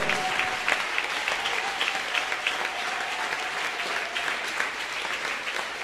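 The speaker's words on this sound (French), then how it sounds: "Acclame très fort l'Éternel. Loudly for the Lord." A church congregation applauds loudly for the Lord, a dense, sustained wash of clapping from many hands that carries on evenly throughout, with a faint voice under it.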